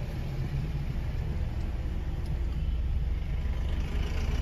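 A car creeps slowly along a narrow lane, its engine a steady, close low rumble and idle-like hum throughout, with no talking.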